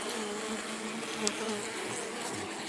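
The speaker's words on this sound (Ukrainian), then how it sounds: "Але бджола, але бджола активна." A dense, steady buzz of many active honeybees swarming close by at an open hive, continuous and fairly soft, with no voices.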